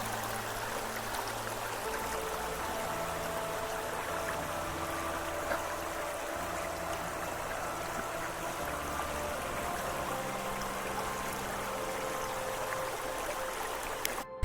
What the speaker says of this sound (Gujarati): અહીં આગળ કેટલું સરસ ઝરણું જઈ રહ્યું છે